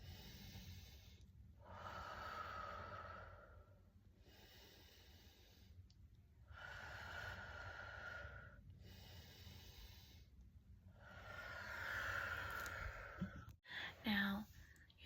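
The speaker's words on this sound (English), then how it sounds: "take a couple deep breaths" Slow, deep breaths drawn in and let out in a calm kitchen, several long rising and falling waves of airy breathing heard close and soft, with a brief clatter near the end.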